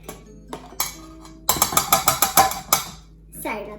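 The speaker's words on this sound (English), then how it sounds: "Gotta scrape everything out." A utensil scrapes the last yogurt out of a bowl in a home kitchen, a quick run of sharp, repeated clinks and scrapes close by, with quieter knocks before and after.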